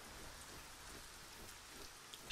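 Steady, faint rainfall hisses evenly in the fantasy role-playing game ArcaniA: Gothic 4, with no voices over it.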